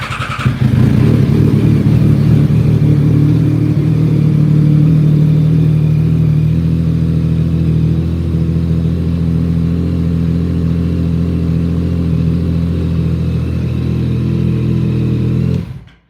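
A vehicle is cold-started inside a closed garage and left idling without revving. Its exhaust holds a loud, steady, deep rumble for about fifteen seconds, then cuts off abruptly.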